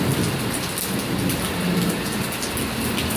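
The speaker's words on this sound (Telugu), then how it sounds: "ఇంకప్పుడైతే ఫుల్ వర్షం వచ్చిందండి." Heavy rain pours steadily with rolling thunder beneath it, a loud, continuous wash of drops close by with no voices.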